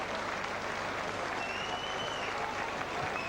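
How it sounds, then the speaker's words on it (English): Sustained applause from a stadium crowd at the end of a St Helens versus Oldham rugby league match, steady and dense throughout with faint whistles on top. "He's applauding his players."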